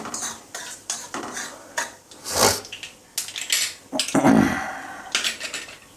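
A metal spoon stirs mustard seeds in a pan over a low flame for poha chivda, with repeated scraping and clinking strokes against the pan and faint seed rattle, close and irregular, with no talking.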